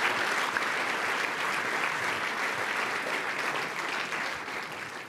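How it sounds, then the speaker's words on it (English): A large audience breaks into sustained, dense applause after talks at a BCS and IET engineering event, the clapping steady and full throughout before easing slightly at the end. "I think just a round of applause,"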